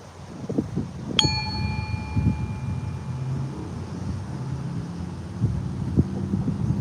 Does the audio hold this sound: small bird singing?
no